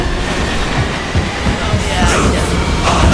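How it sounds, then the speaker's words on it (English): A train rumbles past loudly with steady clatter and some higher rail noise, from a Kannada action movie trailer. "I love the train scene."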